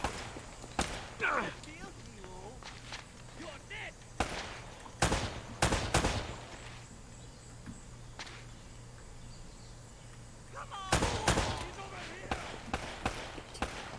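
Gunfire in the action game Uncharted: Drake's Fortune: scattered sharp shots and short bursts, some close and loud, others more distant, spread across a quiet stretch of game ambience.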